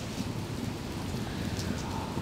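Steady rain falling during a thunderstorm, with a continuous hiss and low rumbling thunder underneath, heard at a constant moderate level with no voices.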